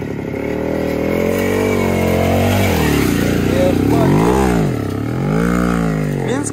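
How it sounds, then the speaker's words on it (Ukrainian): A motorcycle crossing water revs loudly up close, its engine pitch rising and falling through repeated throttle swells, with people talking over it. "Андрюша, трошки розгона візьми, бо заглохне і що робити?"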